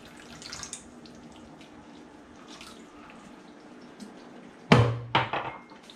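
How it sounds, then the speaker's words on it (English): Water pours briefly into a cooking pan of chicken meatballs in tomato sauce, a sudden close splash and trickle near the end after quiet kitchen background. "So I can add just a little bit of water."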